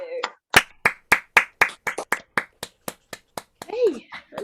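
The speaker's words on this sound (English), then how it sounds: "give Jason a big round of applause" Scattered clapping from a small online poetry audience joining in from home, about a dozen separate sharp claps in an uneven rhythm, close and fairly loud, ending with a brief voice.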